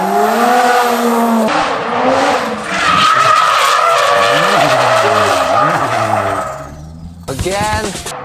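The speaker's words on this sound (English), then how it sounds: "Oh, there's Marek driving" Toyota JZX90 drifting at a Japanese track during a drift event, with loud screeching tyre squeal and a roaring engine that rises and falls through sustained slides, close and intense, with a short pause before another burst.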